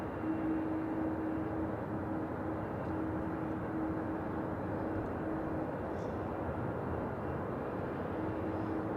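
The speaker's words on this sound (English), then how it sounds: "this British Airways is a Airbus. It's an Airbus A320-200." A British Airways Airbus A320-200 airliner produces a steady, distant broadband roar of jet engines with a faint tonal hum, continuous and fairly quiet throughout.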